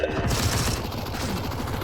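Rapid bursts of AK rifle fire in a video game, loud and close, a dense fusillade of shots filling the short moment without talk.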